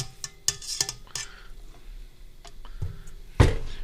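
A spatula scraping down a mixing bowl of creamed butter or margarine and sugar for Walnut Wonders cookies, close clinks and scrapes at irregular intervals, ending in a louder knock, no talking.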